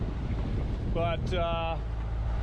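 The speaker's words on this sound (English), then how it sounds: "you can hear that beautiful humming. We've got the engine running." A sailboat's engine hums steadily under loud wind noise at sea in the Gulf Stream, while a voice speaks briefly in the middle.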